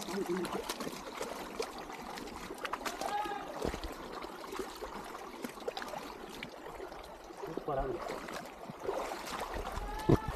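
Water of a stream flowing near Aare Nagalapuram waterfalls, with a steady trickling wash running throughout and voices talking over it.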